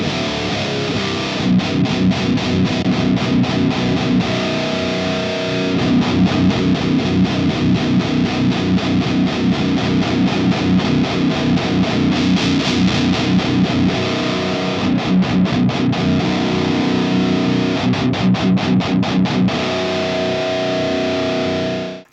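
Electric guitar through an ENGL Powerball II amplifier with the mid-boost switch engaged, a loud, saturated distorted lead tone with fast picked runs and sustained notes played continuously throughout.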